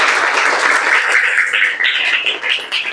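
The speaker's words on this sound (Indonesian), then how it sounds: "Boleh tepuk tangannya semuanya." A classroom of students applauds together in a dense, steady burst of clapping that carries close and loud for the whole stretch, thinning slightly toward the end.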